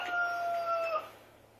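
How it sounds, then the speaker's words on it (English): A rooster crows in a farming simulator video game: one drawn-out crow lasting about a second, rising and holding steady. It is fairly near and clear, and the game's low ambient hum continues after it ends. "I keep saying chicken, it's a little rooster."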